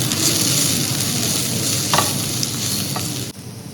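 Onion sautéed with Kashmiri chili powder and meat masala sizzles in hot oil, a loud steady frying hiss up close with a few brief stirring scrapes, no talk.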